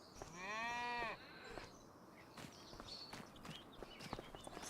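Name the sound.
cows mooing in video game Farming Simulator 25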